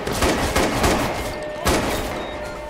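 Rapid gunfire crackles in Watch Dogs 2, a loud, dense run of overlapping shots and thuds that fills the whole moment, with one heavier blast near the end.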